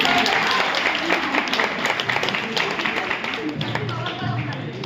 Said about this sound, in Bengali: একটা জোরে হাততালি হয়েছে